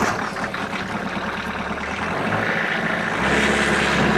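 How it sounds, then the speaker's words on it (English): A Kubota LX3310 compact tractor diesel engine rumbles steadily at idle, a low continuous drone with a slight rise in level near the end, heard up close. "Guys, I'm going to fire this tractor up."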